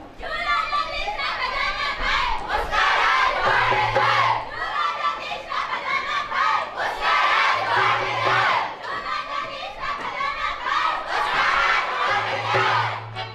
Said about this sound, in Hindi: ये साला कौन चिल्ला रहा है? आपका विरोध कर रहे हैं बापू